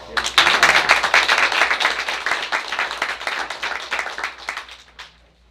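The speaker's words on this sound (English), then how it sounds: "I think that deserves a round of applause." Audience at a school board meeting giving a round of applause, a moderate crowd of distinct, uneven claps that swells quickly, wavers, then tapers off and stops near the end.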